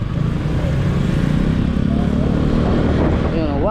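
A motorcycle refitted with its standard sprocket is ridden at speed, its engine droning steadily and loudly throughout with heavy wind rumble, and rising revs near the end.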